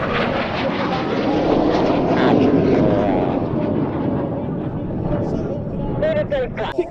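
Jet aircraft trailing blue smoke roar past at an airshow, a loud sustained rushing engine noise that swells and slowly fades, with a commentator talking over it.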